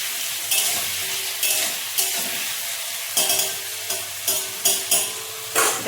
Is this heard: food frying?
yes